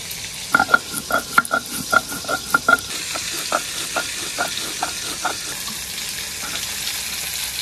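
Snakehead fish frying in a pan, a continuous close sizzle with a run of sharp rhythmic clicks and taps early on that thin out into steady crackling.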